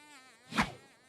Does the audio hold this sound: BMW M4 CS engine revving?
no